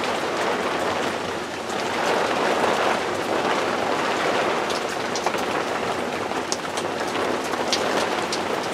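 Steady rain falls onto a back step under an overhang, a dense, continuous hiss with scattered nearby droplet ticks throughout, fairly loud and close with no voices.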